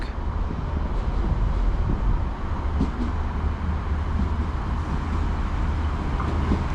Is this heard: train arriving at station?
yes